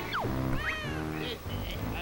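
A cartoonish cat meows in the video game Banjo-Tooie, a couple of rising and falling meows mixed with game music and effects, fairly loud, with speech-like game sounds around it.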